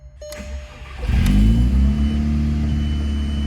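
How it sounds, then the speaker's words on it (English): A VW Mk4 Jetta 1.8T turbo engine cranks briefly, catches and fires up into a loud, steady idle, running close by with no radiator fitted. "This thing fired right up."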